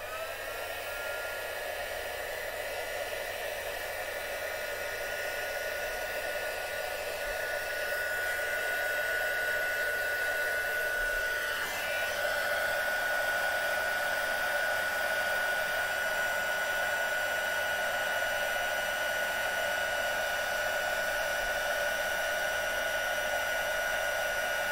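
A heat tool blows steadily while warming craft embossing powder laid on a cheese board, a constant close whooshing hiss running the whole time with no talk.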